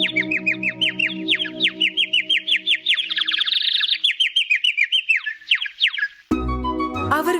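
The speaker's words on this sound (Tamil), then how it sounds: "பறவை அவர்களுக்காக அழகிய குரலால் பாடல்களை பாடியது." A white bird in an animated children's story sings a rapid, bright series of repeated chirping notes over soft background music, ending in a short musical flourish.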